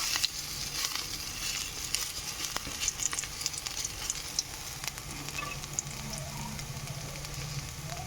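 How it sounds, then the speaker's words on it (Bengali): Drumstick flower fritters fry in hot oil, a constant close sizzle sprinkled with fine crackles and occasional sharper pops, continuing evenly with no voices. "এবার এটাকে বসিয়ে দিলাম তেলে।"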